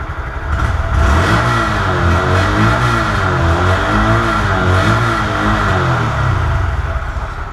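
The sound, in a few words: 2017 Honda Grom motorcycle engine revving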